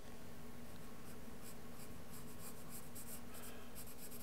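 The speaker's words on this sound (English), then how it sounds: "adding this shadow, this darker area with my dark charcoal pencil under the chin" A dark charcoal pencil shades a shadow onto paper in close, quiet, continuous scratchy strokes that rasp rhythmically back and forth.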